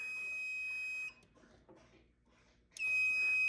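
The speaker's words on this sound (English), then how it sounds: "It's a 2-wire smoke detector." A two-wire System Sensor smoke detector on zone 5 of a fire alarm test setup sounds a loud, steady high-pitched alarm tone that cuts off after about a second, leaves a quiet gap, then starts again near the end.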